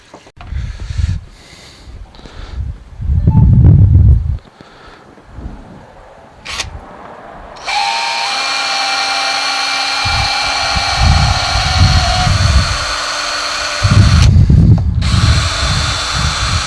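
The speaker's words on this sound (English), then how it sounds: "So what I'm going to do now is drill the top of the plastic," Power drill boring through the plastic top of a koi pond filter housing, a few short bursts of whirring, then a steady, loud, high-pitched drilling whine that continues to the end with a brief surge near the close.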